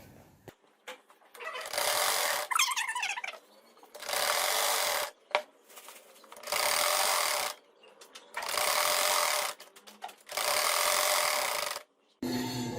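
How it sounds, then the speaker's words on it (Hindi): A sewing machine stitches pleats into fabric for a poncha (mohri) trouser cuff, running in about six loud bursts of a second or two each, separated by short quiet pauses, with no voices. "तकरीबन इतना सा जो है वो मैं दोबारा सिलाई लगाऊंगी"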